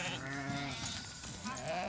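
Goats at a Kazakh herding family's camp near a national park in Mongolia bleat in overlapping wavering cries, close and fairly loud over a steady outdoor background.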